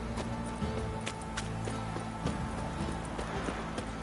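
Horse hooves clip-clop steadily in The Witcher video game, a continuous rhythmic trot over a dense ambient game soundscape with occasional sharp clicks.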